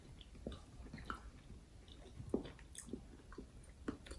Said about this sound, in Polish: Ziarno chrupie świetnie.